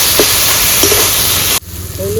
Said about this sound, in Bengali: এবার আমি টমেটোগুলো দিয়ে দিতেছি। আদা রসুন বাটা, কাঁচা লঙ্কা বাটা সব একবারে দিয়ে আমি কষায় নিতেছি।